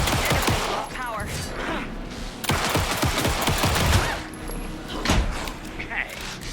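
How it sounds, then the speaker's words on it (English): Bursts of gunfire in Alan Wake 2 crack out repeatedly over several seconds, mixed with thuds and game effects, while voices talk over the action. "Anderson, pin him down with gunfire for me to get the light on him"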